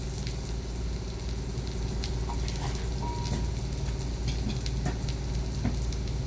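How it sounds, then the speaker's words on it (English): Eggs frying on a griddle, a steady close sizzle with scattered pops and crackles throughout, no talk. "I'm going to go ahead and get this and just start cooking my eggs"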